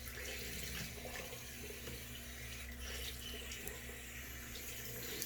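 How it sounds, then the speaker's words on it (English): A kitchen sink tap runs steadily, water splashing into the basin at close range with a constant, moderately quiet hiss, as if left to run until it turns cold, with no voices. "I'm switching the sink over to cold. Let that run out and get some cold now."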